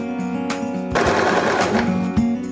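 A Janome 2049X sewing machine stitches stretched elastic, starting and stopping with a close, buzzing motor whir and rapid needle clatter, pausing briefly between short sewing bursts.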